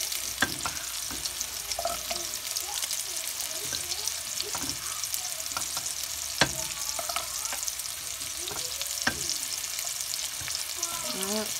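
Beef short ribs frying in hot grease in a pan on a stove top, a steady close crackling sizzle with scattered pops and light stirring, and faint voices now and then.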